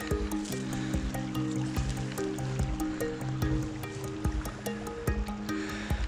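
The Opawica river runs crystal-clear and icy after a night of snow near the Polish border, giving a steady, close rushing of water with scattered clicks and a low tonal hum underneath.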